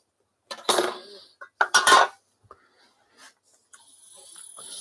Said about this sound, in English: I've got to open the tin